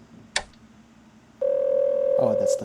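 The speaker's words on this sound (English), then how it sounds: "Oh, that's the phone." A telephone dial tone hums steady and clear in the horror game Firework, starting after a brief click and holding loud and unbroken to the end.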